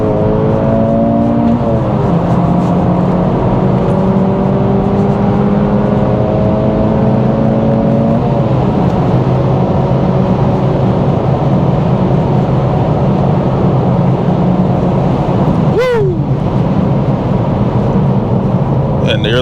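A 2024 Acura Integra Type S engine runs at full throttle on the highway, a loud, steady drone that rises in pitch with each gear and drops at shifts near the start and around the middle, while cabin road roar continues throughout.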